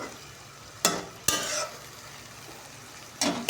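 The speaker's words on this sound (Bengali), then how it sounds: "নাড়াচাড়া করে ফুটে উঠলে নামিয়ে নিচ্ছি।" A pan of rohu fish curry being stirred, with a few sharp scrapes and clatters of a spoon against the pan over a low, steady simmering sizzle, close by.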